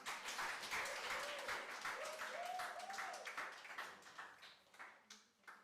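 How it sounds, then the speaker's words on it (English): A group of youth radio show participants claps for their fellow group, a busy burst of applause with some voices mixed in that thins out toward the end into a few scattered claps. "Next clap for the group."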